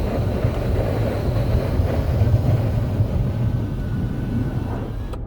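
Steady broadband wind roar inside a 2019 Toyota RAV4 fitted with a roof rack, cruising at 40 mph, a constant loud rushing hum with low road rumble and no talking.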